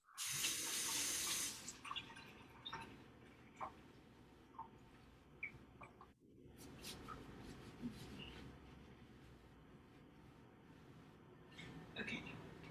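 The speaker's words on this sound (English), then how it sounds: "I'm gonna wash my hands real quick" Tap water runs in a strong splashing rush for the first second and a half while hands are washed, then cuts off, leaving scattered faint clinks and kitchen handling noises and quiet speech.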